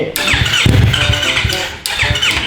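A Honda Sonic motorcycle fitted with a Yamaha R3 engine starts up, cranking and catching into a loud close revving idle, then cutting and restarting near the end.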